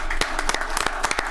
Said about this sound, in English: another round of applause for the Connaughton